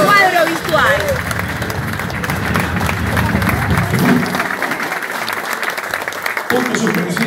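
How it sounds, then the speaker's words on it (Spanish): Applause for the guitarist and leader of a blues band at a live show, a dense crowd clapping throughout, with a voice over it at the start and again near the end. "Fuerte el aplauso para él."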